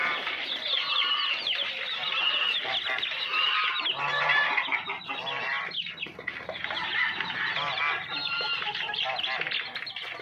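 Backyard pet chickens, grown birds and a hen with her chick, keep up a dense, steady clucking and chattering close by, with a voice occasionally mixed in.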